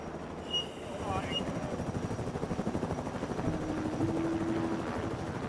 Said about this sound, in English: But when the helicopter arrives, there's a problem.